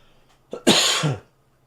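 One short, harsh cough, close and fairly loud, preceded by a small catch of breath, then quiet.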